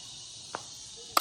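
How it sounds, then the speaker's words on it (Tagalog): Crickets on a countryside nature trip keep up a loud, steady high-pitched buzzing drone throughout, with a couple of brief knocks underneath. "Kuliglig lang po yun, ma'am. Kaya nga po, ang lakas."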